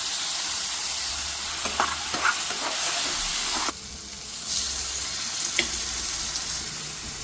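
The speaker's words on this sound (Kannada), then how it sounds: "ರುಬ್ಬಿರೋದು ಟೊಮೆಟೊ ಹಾಕ್ತಿದ್ದೀನಿ." Ground tomato paste is tipped into spices frying in a pan for rajma gravy, giving a steady loud sizzle and hiss with brief stirring scrapes, dropping to a softer sizzle partway through.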